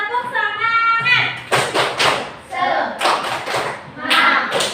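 A classroom group of primary school pupils does a rhythmic 'tepuk semangat' spirit clap, loud patterned claps mixed with chanting voices in a bright, energetic burst.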